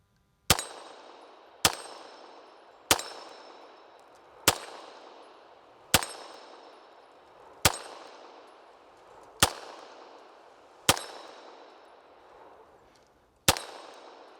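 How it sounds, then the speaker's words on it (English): A Savage stainless steel 1911 pistol fires Federal American Eagle 147-grain rounds: nine sharp, loud single shots spaced about one to two seconds apart, each followed by a ringing decay, with no talking. "So let me shoot it a few times."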